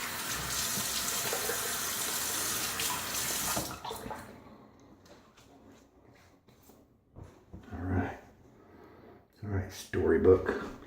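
A tap runs steadily for about four seconds, rinsing a shaving brush during wet shaving with a Storybook Soap Works soap. Then the flow stops and a few brief splashes and handling noises follow.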